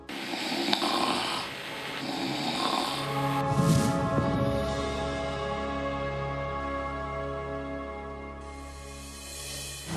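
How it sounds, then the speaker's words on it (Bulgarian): A person asleep in a reality-show house bedroom snoring: long, drawn-out rumbling snores, loud and close, each breath a sustained raspy drone, with no talk. "ама много хъркаше това"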